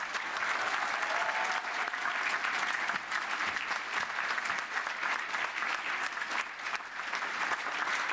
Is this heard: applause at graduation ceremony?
yes